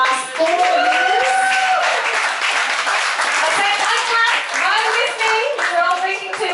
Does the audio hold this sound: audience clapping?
yes